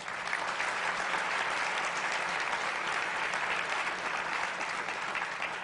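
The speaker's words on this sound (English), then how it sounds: "Let's give them a round of applause." An audience at a State of the County address gives a round of applause, a loud, dense and even ovation from a large crowd that holds steady for several seconds.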